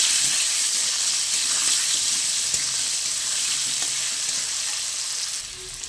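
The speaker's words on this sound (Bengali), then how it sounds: "আলুটাকে আমি ভালো করে ভেজে নেব" Potato pieces seasoned with salt and turmeric fry in hot mustard oil, a loud, even sizzle close by that carries on steadily and eases slightly near the end, with no one speaking.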